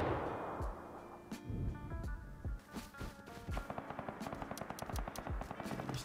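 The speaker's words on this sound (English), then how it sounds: "They're still shooting." Rapid bursts of automatic gunfire crackle in the video game Rust Console Edition, with sharp close shots cutting in and out, then a dense chattering stream of repeated rounds near the end.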